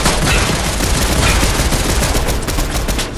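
Explosive shotgun fire in Fortnite, a dense, loud, continuous barrage of blasts and booms packed tightly together for several seconds, with no speech over it.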